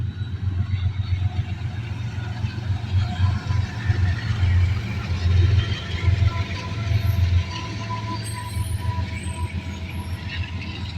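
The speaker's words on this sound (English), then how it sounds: "we moved down to Fostoria just in time to catch the CSX eastbound manifest, with two BNSFs trailing." CSX eastbound manifest freight train with two BNSF locomotives trailing, a loud, steady low rumble of rolling freight cars and engines passing close by for the whole stretch, with a faint voice at times.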